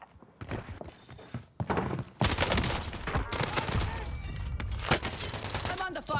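Rapid bursts of gunfire from the video game Warzone on Rebirth Island, including an LC10 submachine gun, crackle close and loud. Short volleys break off, then dense sustained firing runs through most of the clip.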